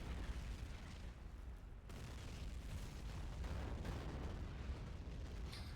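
In a video game, a smoke artillery barrage lands as a continuous low, muffled rumble of distant booms and bursts, faint and sustained with no talking.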